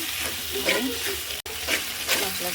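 Mutton stir-frying with spices and onion in hot oil for rezala, a dense continuous sizzle and crackle with stirring scrapes, close and loud throughout.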